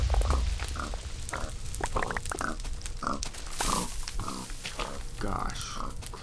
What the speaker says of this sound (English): Shut up, pig.